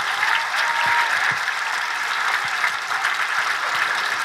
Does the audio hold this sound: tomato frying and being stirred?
no